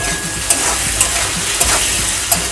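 Capsicum and onion sizzle together in hot oil, a steady bright frying hiss broken by a few sharp clanks of a spatula stirring against the pan.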